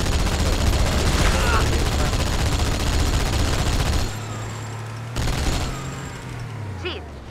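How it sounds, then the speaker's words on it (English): Video game sniper fire: rapid bursts of gunshots and a loud fusillade for several seconds, then a low rumbling drone with a sharp crack, all close and loud. "We're being sniped at."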